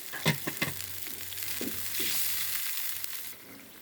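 Papaya and bori curry sizzles softly in a pan as water goes in, a few sharp splashy crackles early on giving way to a steady, moderate hiss that fades slightly toward the end.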